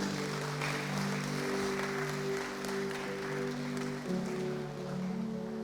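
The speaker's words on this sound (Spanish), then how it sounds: "¿Por qué no le das otro fuerte aplauso al Señor?" A church congregation applauds in a steady, sustained wash of clapping while a held organ or keyboard chord rings underneath.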